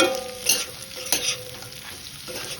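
Fried peanuts are stirred in a hot pan for a sago khichdi, a brief close sizzle broken by two or three scraping stirs.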